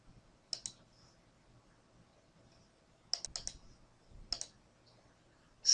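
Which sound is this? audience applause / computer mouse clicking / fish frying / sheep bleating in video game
computer mouse clicking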